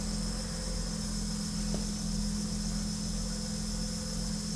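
The naturally aspirated four-cylinder engine of a 1979 Ford Mustang Ghia idles on a dyno while warming up, a steady low droning rumble held evenly throughout, moderately close with no talk.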